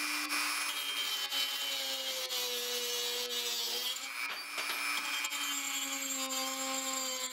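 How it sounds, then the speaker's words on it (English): A Dremel cutting wheel grinds through a metal airsoft inner barrel with a continuous high-pitched whine and rasping scrape, its pitch sagging slightly under load and recovering, close up with no talking. "Attach the cutting wheel to your Dremel, it's time to cut."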